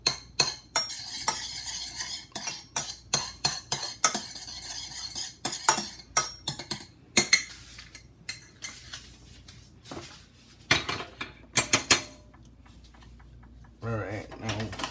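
Rice and beans get mixed with a Spanish-style sauce in a pot: a spoon clanks and scrapes against the metal in quick irregular knocks, close up, with a few heavier bangs and brief quiet gaps.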